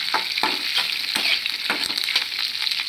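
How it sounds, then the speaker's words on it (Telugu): Coriander seeds, cumin and curry leaves fry in a pan with a dense, steady sizzle and repeated scraping stirs, close and loud with no talk. "ధనియాలు జీలకర్ర కరివేపాకు ఇవి మాడిపోకుండా వేయించుకొని ఆపేసుకొని వేరే ప్లేట్లో తీసుకోవాలి"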